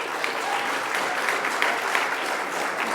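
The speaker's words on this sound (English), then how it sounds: "Just a wee round of applause for them." Round of applause from an audience at a policing and children's human rights report launch, a dense even patter of many hands clapping at moderate distance throughout.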